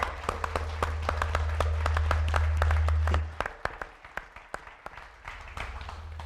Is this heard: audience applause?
yes